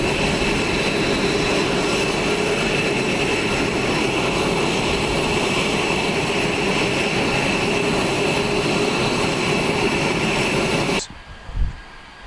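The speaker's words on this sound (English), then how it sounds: "Notable noise pollution comes from these bases, and fighter jets, Ospreys, and other helicopters and fixed-wing planes deploy from these." A military fighter jet roars steadily and loudly overhead for most of the stretch, a dense continuous engine rush that cuts off abruptly near the end, leaving a brief thump in quiet.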